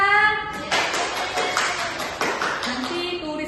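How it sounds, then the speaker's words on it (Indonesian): Children in a classroom clap together for classmates, a burst of scattered hand claps mixed with young voices and a tonal sound at the start and end. "Berikan tepuk tangan kepada teman kita."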